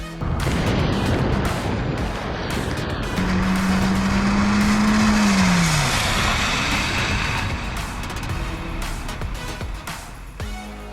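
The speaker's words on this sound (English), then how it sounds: "let's see how the bare minimum of 2/32 will stop the same vehicle at the same speed in the same road conditions" A car braking to a stop on tires worn to 2/32 of an inch tread, loud and close: engine and road roar, then a rising tire squeal that drops away as the vehicle slows to a halt.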